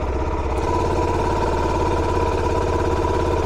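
A 2025 Suzuki DR-Z4S motorcycle engine idles close by, a steady loud thrumming with even low pulsing and no change in pitch.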